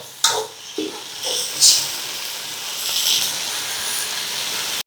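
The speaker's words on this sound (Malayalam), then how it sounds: "അപ്പോൾ പച്ചമുളക് ഇട്ട് നമുക്ക് ഒന്നും കൂടെ ഒന്ന് വഴട്ടിയെടുക്കണം" Green chillies sautéing in a hot pan give a continuous sizzling hiss with bursts of spattering and crackle, punctuated by a few sharp clinks of a utensil against the pan.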